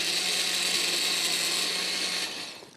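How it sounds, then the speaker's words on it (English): A kitchen blender runs on a banana, strawberry and pineapple smoothie, a steady loud whirring grind that holds evenly for about two seconds before winding down. "Don't forget your blender."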